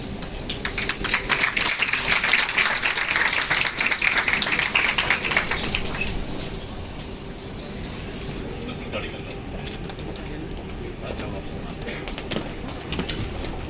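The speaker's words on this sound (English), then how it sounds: "Can we have a huge round of applause?" Audience applause rings through a hall at a literary and arts festival ceremony, a dense clatter of clapping for about six seconds that fades into quieter room murmur and scattered voices.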